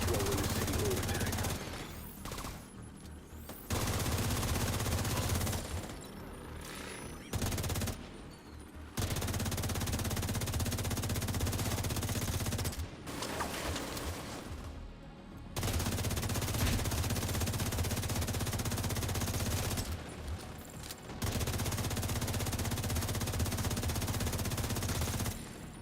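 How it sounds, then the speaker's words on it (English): Sustained automatic gunfire roars in long bursts with brief gaps between them, dense and loud, from video game combat during a city hall attack. "I hear gunfire."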